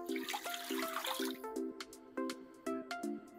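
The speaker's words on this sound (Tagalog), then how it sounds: "Lagyan natin ng 4 na litrong tubig." About four litres of water go into a large cooking pot to boil pork for lechon kawali. A splashing pour at first gives way to a string of hollow glugs and drips, heard up close and quiet.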